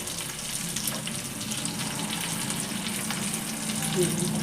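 Pieces frying in a pan with green chillies tucked underneath give a dense, continuous sizzle, close and fairly loud, steady for the whole short stretch.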